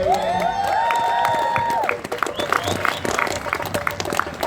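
Rally crowd cheering with whoops and clapping, close and loud, settling into scattered applause.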